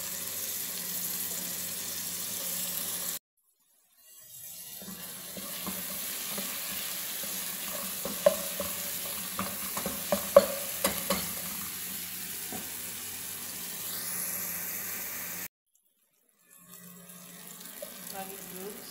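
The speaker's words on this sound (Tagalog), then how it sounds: "Add natin ang tomato." Tomato stir-fried in a pan for sayur bakso soup, a steady low sizzle with scattered clicks of a spatula scraping and stirring, interrupted by brief gaps of silence, no talking.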